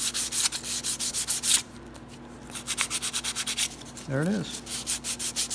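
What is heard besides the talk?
sanding an engine block serial number with sandpaper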